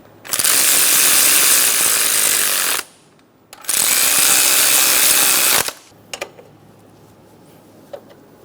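Bolts being tightened on a 2003-2007 Honda Accord during a crankshaft position sensor replacement: two loud, sustained whirring bursts from a power ratchet, each about two and a half seconds long, followed by a few faint clicks.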